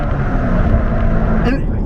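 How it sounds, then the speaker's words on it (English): A 2017 Chevrolet Corvette C7 Z06 with a manual gearbox roars loudly and steadily from up close, then gives a quick automatic rev-match blip near the end as it downshifts. "that's another beautiful thing about the C7 Z06 is its auto rev match downshift"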